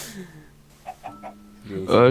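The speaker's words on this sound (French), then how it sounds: "une poule" Chicken clucking in the Minecraft video game, a few short clucks in a row over quiet background, with a louder burst of game sound near the end.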